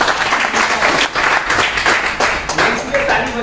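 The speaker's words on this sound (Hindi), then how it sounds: "इसलिए ताली बजवाया" An audience claps at a spoken talk in a dense, close burst of applause that runs the full few seconds, with a voice mixed in underneath.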